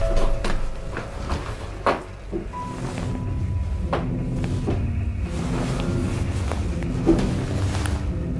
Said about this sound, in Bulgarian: Една от вратите се отваря и затваря от само себе си.